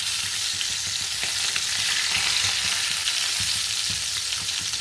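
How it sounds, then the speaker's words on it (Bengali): Live pond-fresh bata fish frying in a pan, a steady dense sizzle with crackling pops running throughout, close and loud with no talk. "এবারে বাটা মাছগুলো একটু ভেজে নেব।"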